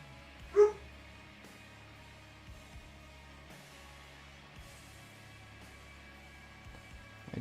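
A single short dog bark rings out near the start, fairly close, then only a quiet steady hum remains.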